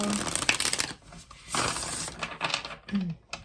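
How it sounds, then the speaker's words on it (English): Tarot cards shuffled by hand in a home reading setting, a run of crisp riffling and rustling bursts with brief pauses, close and fairly loud, no talking over it. "So one more shuffle."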